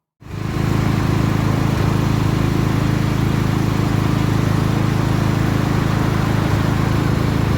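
Steady, loud engine drone of power generators running in wartime Kyiv during a blackout starts abruptly and holds a constant low hum throughout, with no voices.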